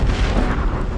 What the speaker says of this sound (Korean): 방금 폭발 뭐지?